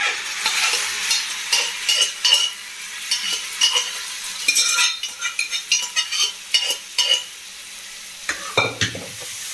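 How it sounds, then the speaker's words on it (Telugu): Mashed vegetables for pav bhaji are stirred in a hot frying pan, a spoon scraping in repeated close strokes over a steady sizzle, with a heavier clank of utensil near the end; no talking. "దీంట్లో ముందుగా మనం స్మాష్ చేసి పెట్టుకున్నాం కదా, ఇది మొత్తం దీంట్లో ట్రాన్స్ఫర్ చేసేస్తాం."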